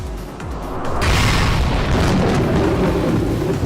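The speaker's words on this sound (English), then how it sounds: "Then they all fired at once in a scattered mess of cannonballs." Massed warship cannons firing a scattered volley of cannonballs, a sound effect from the visual novel Umineko: a sudden loud boom bursts in after a quieter second, then a broad roaring, rumbling wash of blasts carries on to the end.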